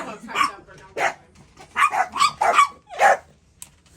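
A dog yips and barks in a quick irregular series of short, sharp calls, fairly close, with speech-like sounds mixed in.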